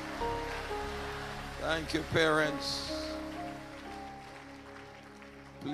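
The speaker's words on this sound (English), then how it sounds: "clap your hands and shout the high praise" A church congregation claps and cheers during a praise service, a rising burst of applause under a speaker's voice and organ-like music, fading as the talking continues.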